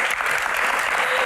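Audience applause at a Q&A session, a dense, steady wash of many hands clapping throughout, fairly loud and close, with no clear voices on top.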